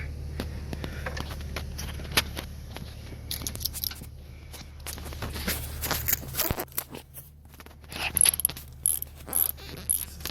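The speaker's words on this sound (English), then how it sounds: "ignition coil screw, Torx 40. Let's just unscrew that out with the Torx" A Torx 40 driver backing out an ignition coil screw on an Acura TL, with close ratcheting clicks, metallic scrapes and handling knocks arriving in irregular bursts, busier toward the end.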